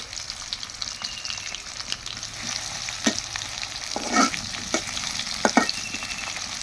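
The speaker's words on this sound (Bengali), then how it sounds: "পেঁয়াজটা লাল লাল করে আগে ভেজে নিন।" Onions fry in a pan with a continuous loud sizzle, broken by occasional scraping stir strokes and sharp crackles, close up and with no voices.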